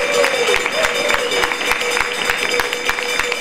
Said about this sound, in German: natürlich einen riesigen Applaus für ihn.